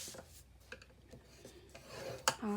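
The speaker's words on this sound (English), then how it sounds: "on all four sides, we are scoring at 1/2 inch and 3 inches" Paper being scored with a scoring tool for a hidden gift box, quiet rasping strokes scraped one after another, ending in a sharper click and a brief higher squeak.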